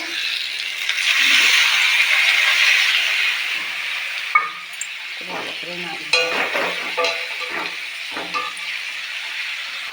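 Curry frying in a pan, a steady broad sizzle at first, then a spoon scraping and stirring in irregular clatters, loud and close.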